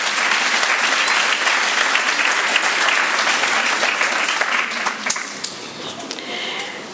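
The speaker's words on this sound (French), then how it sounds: "On les applaudit encore une fois." Loud, dense applause from parents and guests at a school celebration, a crowd clapping steadily before thinning and fading slightly toward the end.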